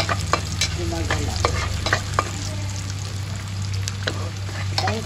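Fish fries in a pan for kare-kare, a steady close sizzle with scattered crackles and spatula scrapes over a constant low hum, loud and continuous throughout.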